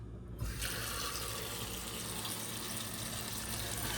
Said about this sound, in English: what's important now is to put some nice water in there